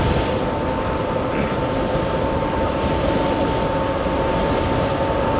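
A high-powered electric bike, rated near 60 mph, runs its motor at full throttle on the road: a loud, continuous whine over a steady rushing wind roar, with no voices.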